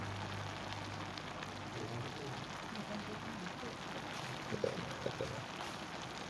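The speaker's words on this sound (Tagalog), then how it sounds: "Yeah, bale ibubuhos lang natin." Liquid is poured into a cooking pot at a farm, making a steady soft hiss much like rainfall that runs for several seconds at a fairly faint level, with a couple of small clunks near the end.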